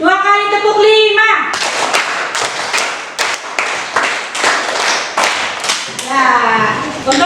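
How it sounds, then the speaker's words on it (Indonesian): Elementary schoolchildren in a classroom clap a patterned group rhythm for an ice-breaking game, a quick run of loud, sharp claps, framed by a teacher's voice talking at the start and end. "2 kali tepuk 5."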